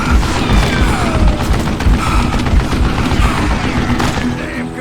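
A mounted gun in Call of Juarez Gunslinger fires rapid, continuous bursts of loud, booming shots, with crashing impacts layered over busy game noise.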